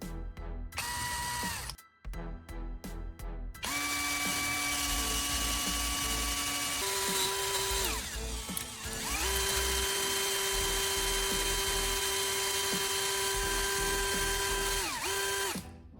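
A high-pitched power tool enlarging the center hole of a CD whines steadily, dipping briefly near the start, with a grinding, mechanical drilling tone that holds loud and close for most of the time.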